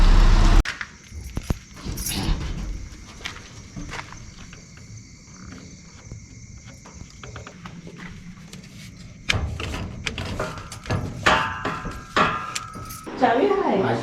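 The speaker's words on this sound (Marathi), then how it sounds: "चावी आहे." A bunch of keys jangles in short metallic bursts close by, with shuffling footsteps and a louder flurry of jingling toward the end.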